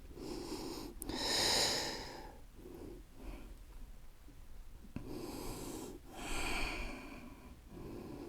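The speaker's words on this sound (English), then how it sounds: "Take a few deep breaths." Deep, slow breathing during a yoga forward fold in a strong flow class, two long audible inhale-exhale cycles close to the mic, each rising to a breathy rush and fading, with no talking.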